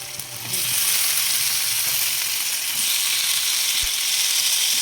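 Atti kaya pieces and curry leaves dropped into hot oil in a frying pan, a loud, steady sizzle that swells after a brief quieter start and continues close up without pause.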